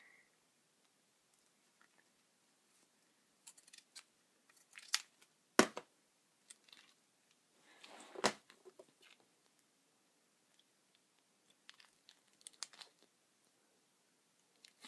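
Scissors snip a keychain charm strap in a few short, close, crisp cuts separated by quiet pauses, with small handling clicks around them.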